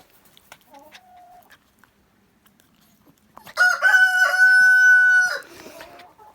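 On a small livestock farm, faint clucks and scattered noises, then a rooster crows loudly nearby in one long, drawn-out call before trailing off into softer clucking.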